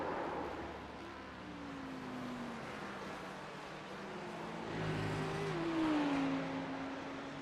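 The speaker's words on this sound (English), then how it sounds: "Somebody getting out of the way there as a couple of the sim rigs cars come through." GT3 racing cars in a sim racing game at Oulton Park. Engines drone at a distance, then rise and pitch-shift as a couple of cars sweep past, sounding moderately close but fairly quiet.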